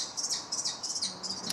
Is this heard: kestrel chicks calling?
yes